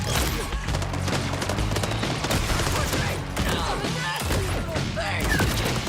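Dense, continuous gunfire in Borderlands 4 on PC, rapid bursts and booming shots close up and loud throughout, with a brief dip in the middle; a voice speaks over the shooting.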